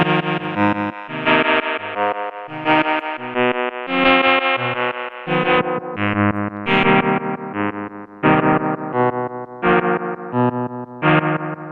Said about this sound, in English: It's kind of crazy how much weight the reverb adds.